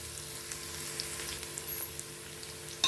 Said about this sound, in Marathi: हे चांगलं परतून द्यायचे आपल्याला.